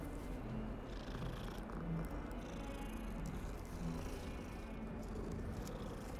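A cat in the Hogwarts Legacy video game purrs steadily, a soft continuous rumbling that is close and constant with no talking.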